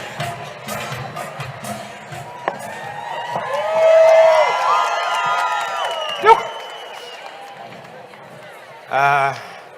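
A large outdoor crowd of people gathered, shouting and cheering with rising bursts of voices, whistles and calls, loud and close, with a sharp peak midway and another burst near the end.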